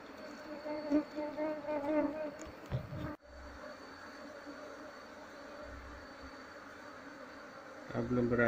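Honey bees buzzing loudly and continuously during the relocation of a hive, a dense droning hum with intermittent bumps and handling noises, and a voice speaking briefly.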